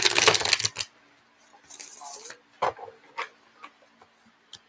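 Tarot cards being shuffled by hand, a close burst of riffling at the start followed by scattered soft flicks and taps from the deck, with quiet gaps between them.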